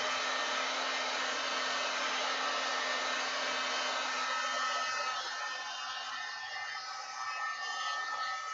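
Steady, loud hiss of an air gun blowing alcohol ink across an arrow shaft, continuous and close for several seconds with a slight drop near the end.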